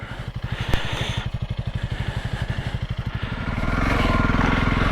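A motorcycle rides along a green lane through open countryside, its engine pulsing in a steady rapid rhythm close to the rider, then swelling into a louder, smoother drone as it accelerates near the end.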